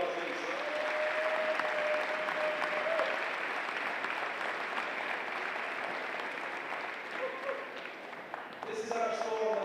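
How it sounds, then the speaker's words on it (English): Audience applause fills a wallball championship court, a steady dense clapping from a crowd that holds for nearly the full stretch, with a brief tonal sound early on and the clapping thinning slightly near the end. "give them all a massive round of applause"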